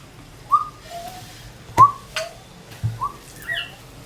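A pet bird kept at home gives short, separate whistles and chirps, several spaced calls with a couple of sharper squawks, close and fairly quiet against a hushed room.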